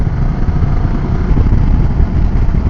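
Steady engine rumble from a BMW F800GS motorcycle on the road, continuous and fairly loud throughout with no voices over it.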